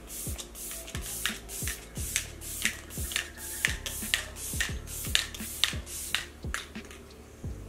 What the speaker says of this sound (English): now I'm going to be using this e.l.f. setting spray